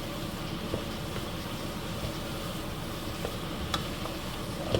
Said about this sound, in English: I'm going to go ahead and give it a stir. Mix that around.